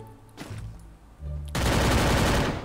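Rapid automatic gunfire from the mobile shooter game Free Fire, a few separate shots first, then a dense, loud sustained burst that fills the second half with no talking.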